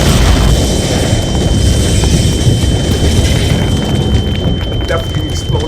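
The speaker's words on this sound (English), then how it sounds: "A deafening explosion roars throughout the corridor, and every cell connected to it." A deafening explosion effect roaring through a corridor, heard as a loud, sustained broadband rumble that fills the whole stretch without a clear single blast or pause.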